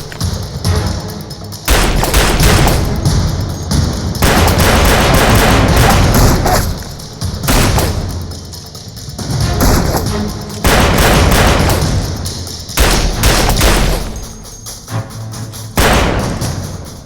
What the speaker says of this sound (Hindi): यहाँ गोली चल रही है।